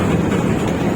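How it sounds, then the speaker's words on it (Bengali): A moving bus in Kolkata rumbles loud and close with a continuous low engine drone and dense rattling of the body throughout, with no pauses. "বাসের মধ্যে খটমট খটমট খটমট আওয়াজ হচ্ছে"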